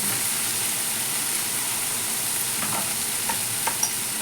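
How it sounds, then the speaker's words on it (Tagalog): Vegetables cooking in a pan for a potato and minced pork omelette, a soft steady sizzle with faint occasional clinks of stirring, close and fairly quiet. "Luto muna natin yung gulay bago tayo mag-prito nito."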